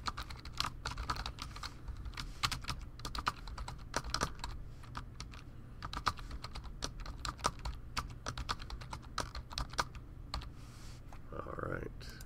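Typing on a well-worn computer keyboard with slightly squishy keys, entering a password during a Linux install: steady, close clatter of rapid keystrokes running throughout, with a brief pause near the end.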